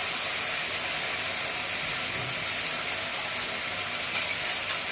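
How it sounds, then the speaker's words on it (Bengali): Chicken curry with potatoes simmers in a pan after water is poured in, giving a steady, even broadband sizzle and steamy hiss close by, with a couple of faint clinks near the end and no talking. "চিকেনটা কখনো কমপ্লিট, এবার আমি এর মধ্যে জল দিয়ে দিচ্ছি।"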